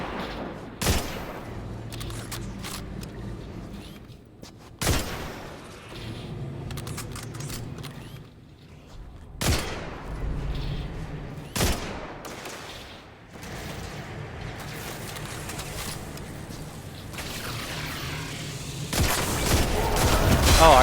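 Video game gunfire aimed at an enemy from inside an elevator: sharp shots at irregular intervals with mechanical rumbling and creaking in between, and a heavier burst near the end.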